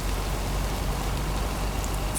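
Rain in the video game Lake, a dense, even hiss of falling drops pattering on surfaces, constant and fairly loud with no voices over it.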